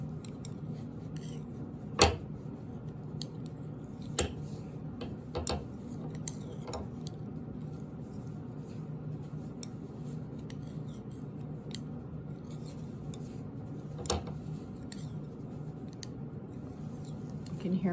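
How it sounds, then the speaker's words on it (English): Knitting needles click together as a beginner baby blanket is worked, sharp light ticks coming irregularly every second or two, close to the microphone over a quiet background hum. "You can hear my needles clicking together right here."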